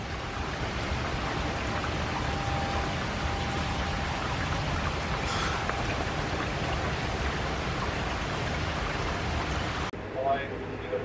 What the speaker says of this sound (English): Behind that storm, the rain is incredible. It's coming on down.